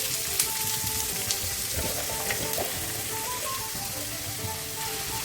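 Three chopped onions frying in hot coconut oil, a dense continuous sizzle up close with light stirring clicks and spatters, no one speaking.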